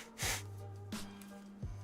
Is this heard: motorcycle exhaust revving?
no